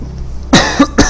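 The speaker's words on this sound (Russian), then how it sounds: "Горло болит, кашляю." Three short, sharp coughs come one after another from a character in the survival video game I Am Alive, close and loud over a quiet background.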